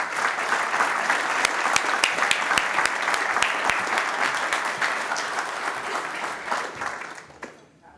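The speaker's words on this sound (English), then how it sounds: "Ladies and gentlemen, please say hello and a round of applause to Nicole Parker and Elosen Group." Awards ceremony audience for National Small Business Week applauds in a full, sustained burst with some sharp claps standing out, tapering off and fading near the end.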